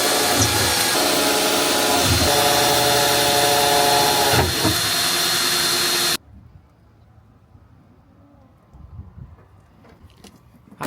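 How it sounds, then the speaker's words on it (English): A power drill bores holes in the quarter panel of an R33 Skyline, a loud close continuous whine with steady buzzing tones for about six seconds before cutting off, then a quiet workshop with faint knocks. "At least I'm drilling right on the hole where he marked it."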